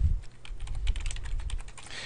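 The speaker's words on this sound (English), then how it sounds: "So I'm typing in album length" Someone types on a computer keyboard, a fast, irregular patter of close key clicks over a low hum for about two seconds, with no speech.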